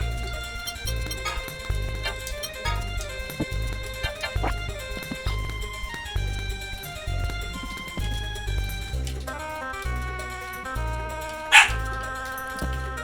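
A dog barks repeatedly in the Tales of Destiny game, its sharp yips set over a looping rhythmic game music track with a steady bass pulse, a brief louder accent near the end, no voices.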